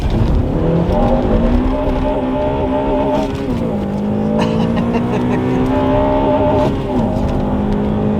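Car engine revving with VTEC, a loud sustained drone that climbs in pitch through the gears with brief dips at shifts, heard from inside the cabin while people talk quietly.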